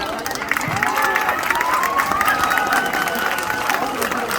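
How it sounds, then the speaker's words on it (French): A crowd claps and cheers together, a steady wash of applause with scattered shouts, fairly loud and continuous throughout. "Merci encore à toutes celles qui ont participé. Applaudissez-les."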